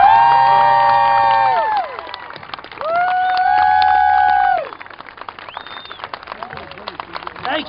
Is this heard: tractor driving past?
no